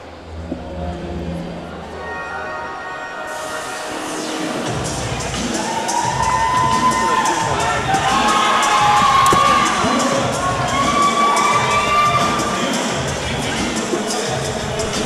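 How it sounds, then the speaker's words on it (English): A crowd at a kickboxing event cheers and shouts loudly for a fighter introduced from the blue corner, rising after an announcement and holding as a dense, sustained roar with whistles and yells. "please make some noise for Dylan, the Demon Child Large"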